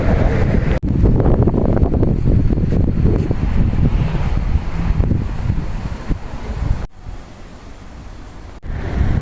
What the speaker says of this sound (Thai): เริ่มมืดครึ้มพร้อมกับลมพัดแรงมากยิ่งขึ้น